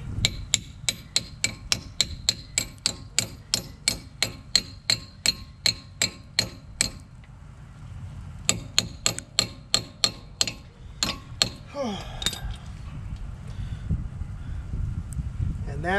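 On a 1999 Dodge Ram, a hammer taps a front wheel bearing cap into place with a fast, even run of sharp metallic knocks, close by. After a brief pause comes a second, more irregular burst of taps.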